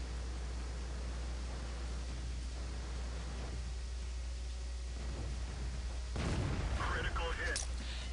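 In World of Tanks, a Russian SU-85I tank destroyer's cannon fires one sharp boom near the end, preceded by a steady engine rumble and static-like battle noise.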